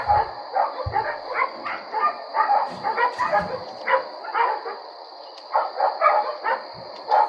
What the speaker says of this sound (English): Are you able to hear these dogs when you sleep?